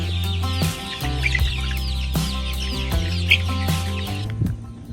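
A flock of pasture-raised chickens on a small egg farm clucks and chirps in a busy, overlapping chorus, with soft peeps and louder clucks close by and a low hum underneath.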